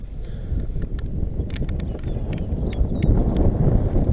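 Steady outdoor wind noise gusting against the microphone during a fishing trip in Florida, a broad continuous rumble that swells slightly toward the end, with a few faint clicks and knocks over it.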